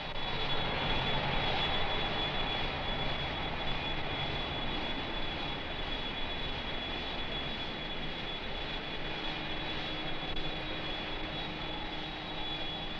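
The steady engine drone of an airliner carrying over 100 frisbee players in 1975 fills the cabin, a constant broadband roar with a faint high whine that holds at the same level throughout.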